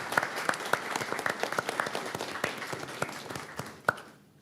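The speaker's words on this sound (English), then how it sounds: "So help me salute her with a round of applause" An audience at a city commission meeting applauds with scattered, fairly faint clapping in a large room. It keeps up steadily for several seconds, then fades out.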